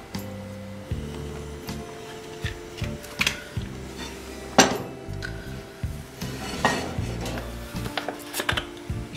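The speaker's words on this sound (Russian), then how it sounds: "нам необходимо поставить сковороду на огонь, чтобы она раскалилась как следует" In a home kitchen, a frying pan is set on the stove among clinking and knocking cookware, with scattered sharp metallic taps over soft background music.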